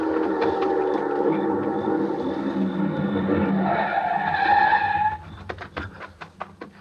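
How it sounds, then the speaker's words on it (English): A car engine roars in close and fast, then tires squeal and skid loudly before it jolts to a stop in a 1950s radio drama, followed by a few sharp clattering knocks. "The car was close now and moving fast."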